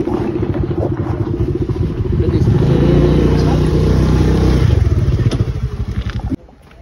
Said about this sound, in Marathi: आता बाईक चालवतो जरा फास्ट फास्ट